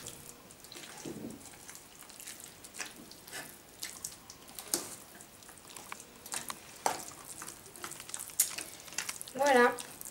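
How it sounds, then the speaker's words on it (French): Heated sushi rice mixture being stirred in a pan, faint scraping and soft wet stirring strokes at irregular intervals, with light background clatter. "Et donc on va remuer."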